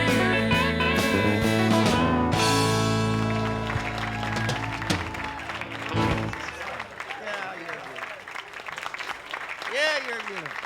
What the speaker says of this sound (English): Thank you for that applause, ladies and gentlemen